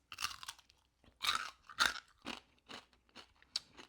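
Pork crackling being crunched and chewed close up, a run of sharp, loud bites and crackly chews in uneven bursts with short pauses, no talking.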